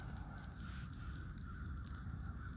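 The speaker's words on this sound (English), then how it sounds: "Hear the crows crowing back there." Crows caw faintly in the distance outdoors at night near a campfire, a few scattered calls over a steady low background hum, with no talking.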